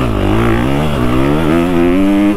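Honda CFR / Redmoto 300RX motorcycle ridden close up, its engine a loud steady drone that dips and rises slightly as the throttle varies, heard alone without talk.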